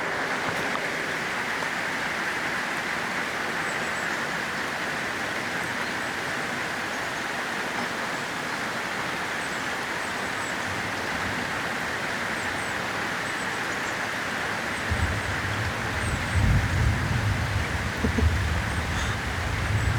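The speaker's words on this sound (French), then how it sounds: "Je vais vous laisser avec le son de la pluie" Heavy rain pours steadily outdoors during a thunderstorm, a dense, even hiss that fills the whole stretch, with a low rumble swelling in over the last few seconds.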